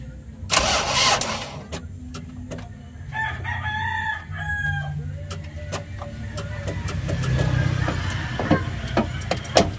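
A car's starter motor cranks and the engine tries to start, while a rooster crows and chickens cluck nearby. Brief voices are heard, and sharp clicks and knocks come and go over a continuous low rumble.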